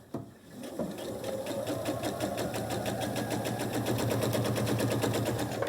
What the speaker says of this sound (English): with your 1/4 inch presser foot, go ahead and sew a seam as you normally would